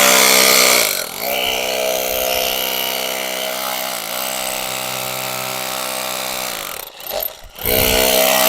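A loud, steady ELTOS PA-20/26DFR BL cordless rotary hammer chiselling concrete drones on with a harmonic whine, briefly dipping twice, then cuts out with short stuttering pauses before starting up again near the end.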